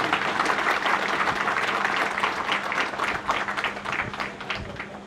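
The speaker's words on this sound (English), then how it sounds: "Ladies and gentlemen, can we have a round of applause," An audience at an Independence Day celebration in Meghalaya breaks into a sustained round of applause, steady dense clapping heard from a little distance with a faint hum beneath.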